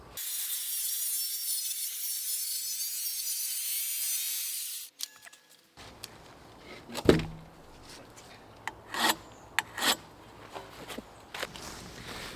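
A saw cuts into an oak barn frame beam, loud steady power-tool rasp for the first five seconds, then stops, followed by scattered knocks, shuffling footsteps and handling sounds.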